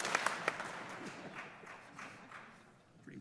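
Audience clapping at a state address in a large hall, a scattered burst of applause with a few sharp claps early on that thins out and fades toward the end.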